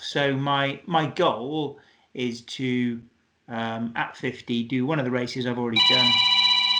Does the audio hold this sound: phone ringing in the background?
yes